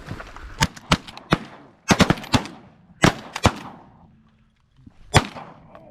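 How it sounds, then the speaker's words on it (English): Shotgun blasts fired at ducks landing on shallow sheet water during a duck hunt, a rapid volley of loud, sharp reports in uneven bursts, several shots close together then a final lone shot. "Let's shoot these ones right here. Shoot them, shoot them, shoot them."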